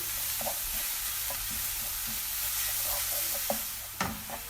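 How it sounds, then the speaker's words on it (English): Ingredients for St. Lucian dahl frying in a pan, a steady soft sizzle with occasional stirring clinks and a sharper clatter near the end, no talking. "make sure you just allow that to fry for at least 2 to 3 minutes"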